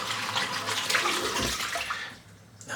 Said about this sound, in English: all the sink's filling up